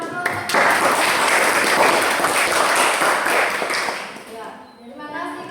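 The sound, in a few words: classroom applause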